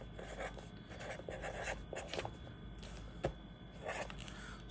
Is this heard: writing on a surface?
yes